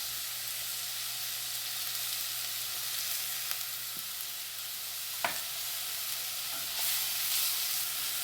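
Onions and garlic sautéing in a pan, a steady, fairly quiet sizzle with a faint low hum beneath and a few sharp ticks of a utensil; no one speaks.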